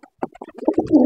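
A lakka (fantail) pigeon coos close by in a short, soft, throaty call that swells toward the end, heard alone without talk.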